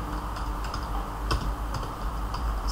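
A computer keyboard is typed on in a short run of light, irregular clicks, fairly quiet and close by, with no talking.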